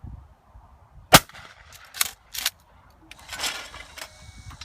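A pump-action shotgun fires at clay pigeons on an outdoor woodland range: one sharp, loud report followed by a few softer clacks and knocks, with brief gaps of quiet between them.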